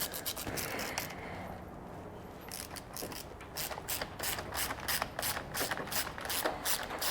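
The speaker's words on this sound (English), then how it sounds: "rotary ratchet, 10mm swivel" A rotary ratchet with a 10mm swivel snugs down motor bolts during a Bennche 800 engine install, giving rapid, close metallic clicking in bursts with short pauses between runs.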